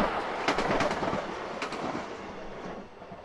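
Passenger train from Kolín passing on the railway track near Kutna Hora, a fairly quiet rolling rumble with faint rhythmic clicks of wheels over rail joints, steady and moderately near throughout.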